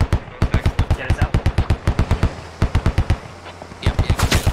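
Rapid machine gun bursts in the military shooter SquadOps during an engagement with an armored DShK technical, loud rhythmic strings of shots broken by a short pause, then another burst.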